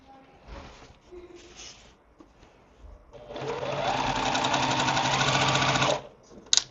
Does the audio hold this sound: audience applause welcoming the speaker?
no